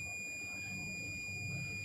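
A digital multimeter gives a steady, faint high-pitched continuity beep while testing a mobile phone ringer during repair. The tone holds without a break over low background hum.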